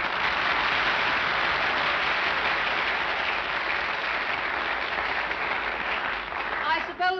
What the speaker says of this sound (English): I know that I'm grateful to you for your applause.